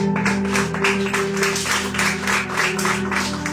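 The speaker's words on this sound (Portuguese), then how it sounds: "Pode aplaudir a Jesus," Church congregation applauding during a worship service at an Apostolic church, a steady dense wash of clapping that holds at an even level throughout over sustained music or organ tones.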